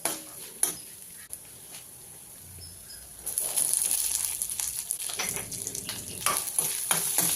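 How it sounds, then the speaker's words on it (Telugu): Peanuts, chana dal and urad dal frying in oil on a low flame, heard as a quiet sizzle with a few scraping stirs and clinks that grow louder and busier partway through. "పల్లీలు 2 చెంచాలు, పచ్చిశనగపప్పు 2 చెంచాలు, మినపప్పు 1 చెంచా వేసుకుని లో ఫ్లేమ్లో దోరగా వేయించుకోవాలి"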